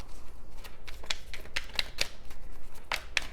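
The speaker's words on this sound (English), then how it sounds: "let me give this a shuffle" Crisp riffling of tarot cards being shuffled, a rapid series of short papery flicks and taps, close up with no voices.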